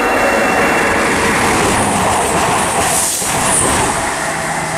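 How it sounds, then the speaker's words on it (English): A Thameslink train passes through Harlington station on the Midland Main Line, a loud continuous rumble and rush of wheels on rail with faint high squeal, steady throughout. "and as the Thameslink service goes."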